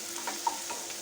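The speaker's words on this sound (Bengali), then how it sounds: "এবার এটা ভালো করে কষিয়ে নিই" Turmeric and spices stir-fried in a pan for kadai chicken give a soft, steady sizzle with light stirring scrapes, quiet and close, with no voices.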